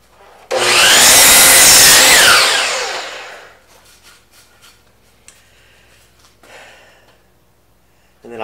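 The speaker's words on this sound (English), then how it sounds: "So I'm going to cut them at 45 degrees" A saw cuts through wooden table legs at 45 degrees for a farmhouse X-leg entry table. One loud, close cutting burst lasts about three seconds, followed by quieter scraping and handling noises.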